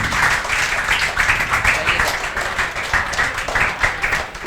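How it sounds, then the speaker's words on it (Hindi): Applause for a student in a crowded lecture class: a group claps steadily and briskly for several seconds, and no talking is heard. "जयेश शर्मा के लिए अच्छे से बजाओ तालियां"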